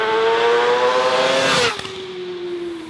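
A 2017 Suzuki GSX-R1000 inline-four motorcycle accelerating hard, its engine tone climbing loud and close before a gear change drops the pitch and it pulls on steadily.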